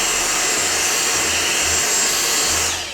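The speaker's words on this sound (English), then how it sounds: "This is my Dyson DC26 handheld vacuum, and this thing will just suck off all the dust very loudly." Dyson DC26 handheld vacuum running over a LEGO Tower Bridge model: a loud, steady whining motor roar, close and continuous for about three seconds with no talk over it.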